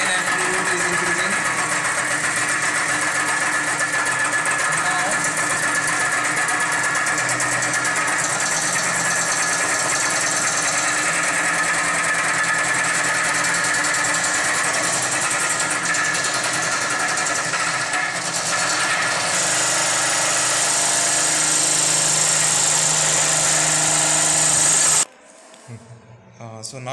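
A vibration experiment rig's motor runs loudly and steadily as its speed increases, a dense mechanical whir with some rattle, before cutting off abruptly near the end.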